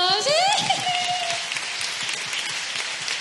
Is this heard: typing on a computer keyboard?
no